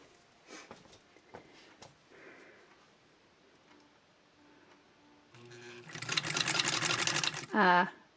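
A Singer 66 sewing machine fitted with a buttonholer attachment runs in a loud, rapid stitching burst of about two seconds, with quieter handling clicks and brief talk before it.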